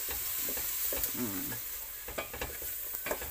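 Curry powder and chili powder stirred through a hot pan for a simple chicken curry, a steady sizzle with repeated spoon scrapes and light clinks, close by and without speech.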